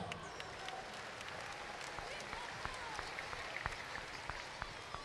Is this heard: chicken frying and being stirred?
no